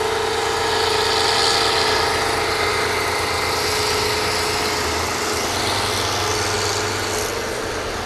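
An engine on a Kelly drilling rig at an oil well runs steadily, a loud continuous drone with low throbbing and mechanical hum, and no talk over it.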